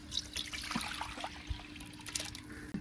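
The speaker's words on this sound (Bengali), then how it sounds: "দিয়ে দিচ্ছি ধুয়ে রাখা ডাউল" Washed lentils (dal) poured into a cooking pot, a faint wet trickling and pattering of grains and water lasting a few seconds.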